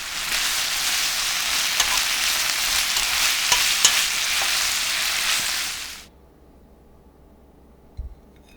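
Beef and fatsia shoots stir-fried in a pan with sesame oil, a loud steady sizzle with faint scraping stirs that cuts off abruptly when the heat goes off, leaving near silence and one small knock.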